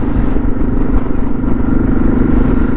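Suzuki DR650 motorcycle ridden on Rocky Mountain terrain, a loud steady engine drone with wind and road rumble, close and continuous throughout.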